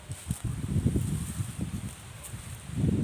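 Wind rustles leaves and grass outdoors in a rural village before rain, producing a soft, uneven rustling throughout with faint gusts.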